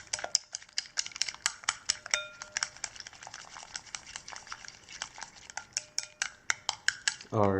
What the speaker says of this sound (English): And stir, and make sure the minced pork not sticky together.